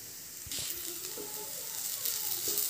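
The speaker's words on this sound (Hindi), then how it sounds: "अब दाल को अच्छे से पका लेंगे।" Mung dal sizzles steadily in a hot pan as it cooks for kachori filling, a continuous bright frying hiss with occasional soft stirring scrapes, close and moderately loud, with no one talking.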